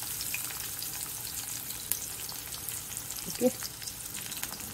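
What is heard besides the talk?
sliced onions and ginger frying in a pan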